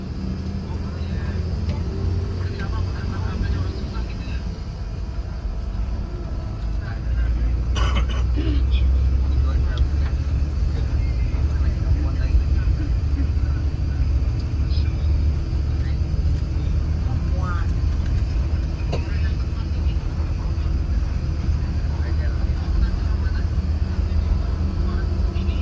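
A steady engine drone and road rumble from inside a moving ALS long-distance bus continues throughout, with faint occasional rattles and a brief clunk.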